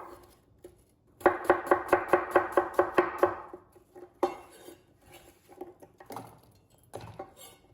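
A knife chops apples in a bowl with a quick burst of about eight sharp, evenly spaced knocks, then a few scattered slower taps and clinks, close and crisp with no talking.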